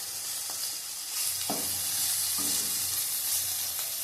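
Food fries slowly in a covered pan over low heat, a soft even sizzle with a few dull knocks of the lid or utensil, close by and with no talk.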